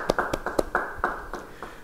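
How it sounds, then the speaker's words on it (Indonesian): Clapping from a church congregation, a handful of sharp, separate claps in an uneven rhythm, close and fairly loud, thinning out toward the end. "Yang percaya beri tepuk tangan buat Tuhan."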